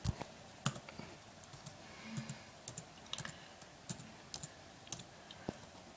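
Someone types slowly with one hand on a computer keyboard, giving sparse, uneven clicks spaced across the quiet, close up and faint, with no talking.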